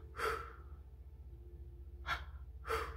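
A person imitates soft kitten-like sleeping breaths, three short breathy puffs spaced out near the microphone over a low steady hum.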